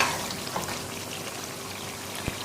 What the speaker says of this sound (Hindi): अब इसमें हम शामिल करेंगे बॉईल किया हुआ कद्दू, और अच्छे तरीके से इसको भूनना है।